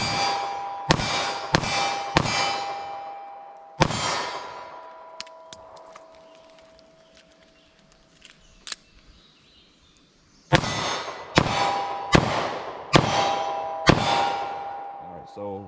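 A snub-nose revolver fires 9mm rounds: a quick string of loud cracks with ringing metallic tails, a long quieter pause with small clatters during a reload, then another rapid string of about five shots.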